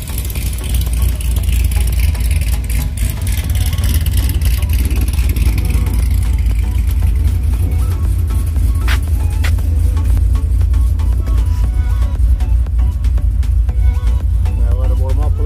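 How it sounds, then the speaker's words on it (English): A car engine runs after a repair with a new coil pack and spark plugs, giving a loud, steady hum close by with no clear revving or faltering. "The car is running nice and good."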